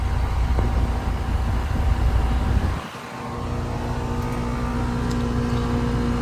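A brand-new 2025 Trane XR14 1.5-ton heat pump with R454B refrigerant and a Genteq fan motor hums steadily up close, then dips briefly and rises again into a constant low mechanical drone.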